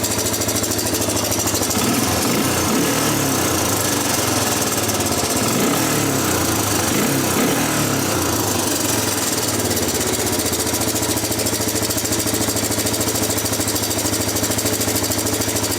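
A 1987 Honda TRX250 ATV engine runs steadily close by, its rumble rising and sagging as it nearly stalls, then settling back into a rough idle.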